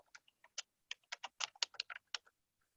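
A computer keyboard clicks away in rapid, irregular bursts of keystrokes during a gathering, the taps crisp but faint and close, with no talk over them.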